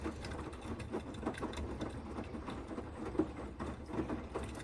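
A Beko Aquatech washing machine runs a Cottons 40 Fast cycle, giving a steady mechanical churn with faint repeated knocks and sloshing, moderately loud and continuous throughout.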